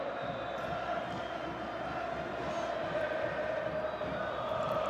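A packed football stadium at the Algeria vs Uganda match produces a constant dense wall of crowd noise, a steady roar of chanting and cheering with a commentator talking over it.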